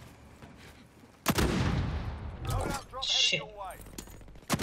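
Sniper rifle fire in a squad-based shooter game: one sharp, loud crack, then a fainter shot and clatter, while a player swears and talks over the action.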